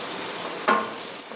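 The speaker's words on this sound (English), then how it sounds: "The caramelization from the meat will help to flavor the onions and celery. We'll let those cook for a moment." A brief sharp sizzle bursts from onions and celery frying in a pan with browned meat, a single short hiss over a low steady background.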